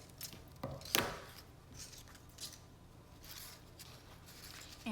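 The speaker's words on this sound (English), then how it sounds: "I am cutting 4 long strips of equal size to use here." Long strips of paper being cut to equal size with scissors while covering box edges, a few crisp snips and a sharper slicing sound near the start, then quieter rustling and intermittent cuts close by.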